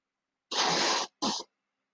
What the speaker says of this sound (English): Hope I didn't blow my nose too loud on you.